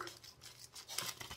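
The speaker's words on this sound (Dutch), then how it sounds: "dan knippen we ook weer de bovenkant maar even los" Scissors cut open the top of a parcel in a few quick, faint rasping snips at close range.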